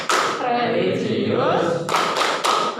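A class claps out a rhythmic Tepuk PPK chant during a school lesson: loud, sharp claps in quick patterned bursts, mixed with the children's chanting voices.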